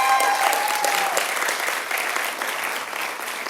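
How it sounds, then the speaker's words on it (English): An audience at a press conference for Billy Joel's 100th Madison Square Garden show breaks into sustained applause, dense clapping that fills the room and slowly eases off. "Let's give her a round of applause."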